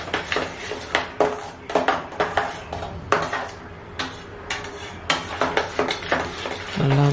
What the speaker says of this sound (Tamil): நல்லா அந்த சுகர் அதோட ரவை கூட நல்லா மிக்ஸ் ஆகி நல்லா கரைஞ்சி போகிற வரைக்கும் கிண்டிட்டு அதோட ஈரப்பதம் ஃபுல்லாக போகிற வரைக்கும் கிண்டணும்